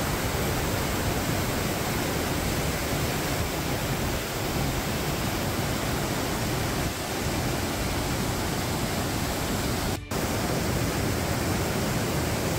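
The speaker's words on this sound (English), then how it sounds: "it's a melting glacier waterfall running through a canyon in the mountains" A glacier meltwater waterfall roaring through a mountain canyon in Grindelwald, a loud, unbroken broadband rush of churning water close by, with no voices.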